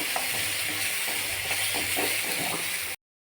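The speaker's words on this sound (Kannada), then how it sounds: "ಈಗ ಟೊಮೆಟೊನ ಈರುಳ್ಳಿನ ಎರಡನ್ನೂ ಚೆನ್ನಾಗಿ ಫ್ರೈ ಮಾಡ್ಕೊತಾ ಇದ್ದೀವಿ." Onion and tomato with turmeric frying in a pan, a steady close sizzle with soft stirring scrapes throughout, no talking.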